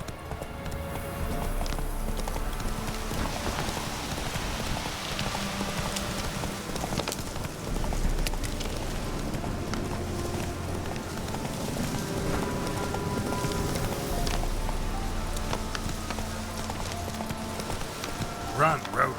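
Hooves clip-clop steadily throughout as a horse gallops in The Witcher 3 video game, mixed with game ambience and rain-like patter, with speech over it.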